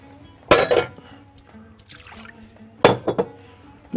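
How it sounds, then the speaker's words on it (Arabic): Water being poured and splashed into a bowl while making a dough, with two sharp bursts of pouring and clinking separated by quieter dripping and faint tonal ringing. "جاب شوية مية كده"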